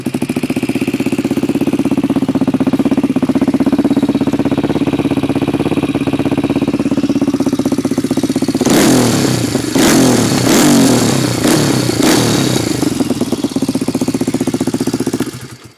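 A Honda 300EX ATV engine starts and idles with a steady mid-pitched putter, then gets a run of sharp, loud revs before settling back and cutting off, heard close up with no talking.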